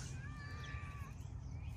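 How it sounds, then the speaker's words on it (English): A house cat meows once in a vegetable garden, a faint drawn-out call over steady low background noise outdoors. "my cat's coming over to talk to me because she does that"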